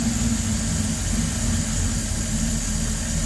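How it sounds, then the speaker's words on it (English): A warm LaSalle car engine with a fuel starvation problem runs steadily as it is given gas, a constant low droning rumble close by with no talking. "I'm going to give it some gas now so you can see what happens while it's warm"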